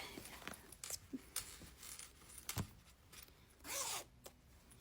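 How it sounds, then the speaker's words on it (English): A clothing zipper, just finished on a garment, is zipped up with a quick scratchy run of teeth, preceded by several short ticks and rustles of fabric handling, all close and fairly quiet. "So when you zip it up,"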